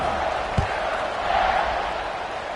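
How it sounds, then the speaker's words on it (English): An American football stadium crowd buzzes after a touchdown, a broad, steady roar of many voices with one dull thump early on. "this crowd is buzzing after that last score"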